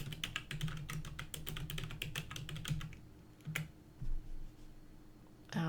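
Rapid keystrokes on a computer keyboard while an email address is entered into a SharePoint tenant, a dense run of close clicks for about three seconds, then a few scattered taps and a final burst.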